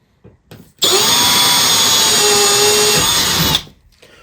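A power drill whirs loudly and steadily for about three seconds, boring through wood, with faint knocks before and after.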